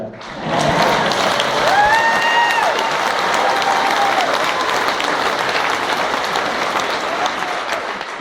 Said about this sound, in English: you're allowed to clap for that